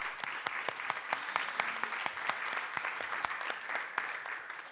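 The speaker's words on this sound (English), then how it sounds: "Big round of applause." A live audience claps after a startup pitch at an investment showcase event, a dense continuous round of applause with sharp individual claps standing out, fairly distant and moderately quiet.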